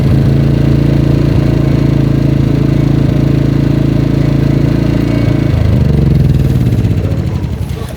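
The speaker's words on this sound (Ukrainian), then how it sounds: "генератор сам заглохне" EcoFlow dual-fuel generator running on gas, a loud steady engine drone that holds for about five seconds, then falters and winds down as it stalls.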